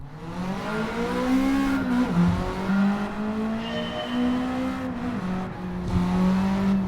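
A race car engine in Gran Turismo 7 drones and revs steadily, its pitch sliding up and down through gear changes, loud and continuous with no voices.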